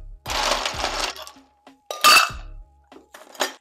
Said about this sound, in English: you want to start off by putting ice in your shaker.